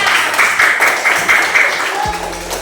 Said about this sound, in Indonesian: kasih tepuk buat kelompoknya Zainab